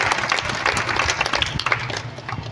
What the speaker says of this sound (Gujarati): આ મંડળીને આપણે એકવાર જોરદાર તાળીઓથી વધાવીશું.